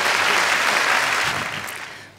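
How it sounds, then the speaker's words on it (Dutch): Loud, dense audience applause at a jubilee swimming diploma presentation, a short burst of clapping that fades at the end. "Ja, graag een applaus."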